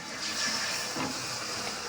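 Hot water poured into a pan of fried spice paste gives a soft steady hiss and sizzle, faint and close, with a slight swell in the middle.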